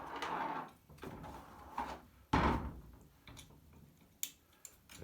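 Guard door of a Roche laboratory sampler machine being shut, giving a sharp close thud with a brief rattle, preceded by softer handling knocks and followed by light clicks, no talk.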